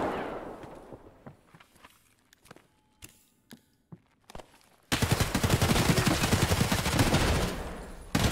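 Video game gunfire starts as scattered single sharp shots with quiet gaps. It then breaks into a sustained, loud burst of rapid automatic fire that runs to the end.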